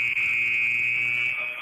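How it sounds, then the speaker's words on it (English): A loud, steady electronic buzzer at a basketball game halftime drones continuously for over a second, a single sustained tone with a faint hum beneath it. "That's the buzzer to bring the teams back out on the floor"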